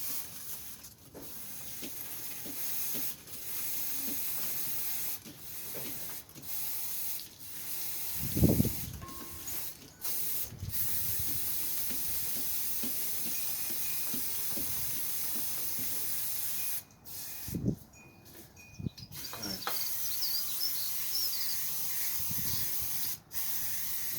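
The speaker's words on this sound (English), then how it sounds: "Get plenty of cleaner in there and turn that chain." Chain cleaner is sprayed onto the chain of a Honda CBR500R motorcycle in long, steady hissing bursts, close up, broken by short pauses and faint clicks as the chain is turned.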